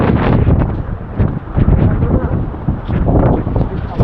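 Strong wind gusts buffet the microphone on a fort in heavy rain and fog, a loud continuous roar with rushing low rumble that swells and dips throughout.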